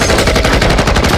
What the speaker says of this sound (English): Metal Slug 3 is a run and gun game. You go from left to right, shooting anything in your path.